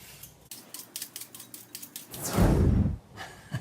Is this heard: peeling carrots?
yes